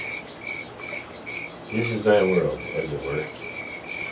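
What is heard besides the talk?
crickets chirping from a speaker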